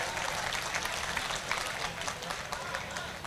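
Audience applause at a mushaira poetry gathering in Madhubani, India: dense, steady clapping from a large crowd filling the hall for a few seconds without letting up.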